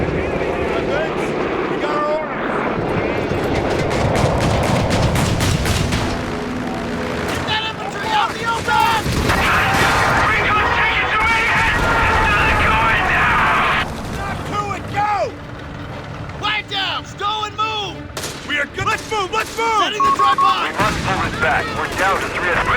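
Gunfire and explosions rage in a 4v4 Company of Heroes 3 battle, with loud sustained shooting, heavy blasts and rumbling artillery beneath frequent shouted soldier voice lines.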